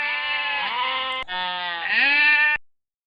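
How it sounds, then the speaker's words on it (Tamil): A sheep bleats loudly and clearly in one long wavering call with a short dip in the middle, heard alone with no talk. "sheep"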